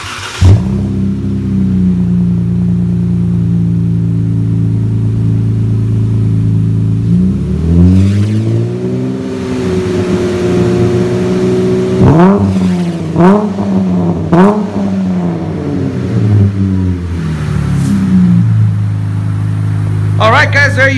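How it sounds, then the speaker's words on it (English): 2016 Dodge Challenger V6 fitted with a MagnaFlow muffler idles with a steady low rumble, then revs several times in rising and falling bursts, loud and close, with a voice speaking over part of it. "So here on the MagnaFlow, it sounds like this might be a little bit quieter of a muffler"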